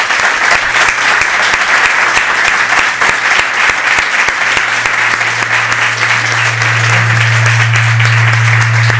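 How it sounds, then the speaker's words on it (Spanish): A large audience gives loud, sustained applause at the close of a lecture, thick continuous clapping with a low steady hum underneath throughout. "Un fuerte aplauso,"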